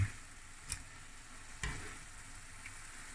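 Ground meat hits a pan of vegetables for spaghetti bolognese and fries with a steady, soft sizzle, broken by a couple of sharp utensil clicks from stirring.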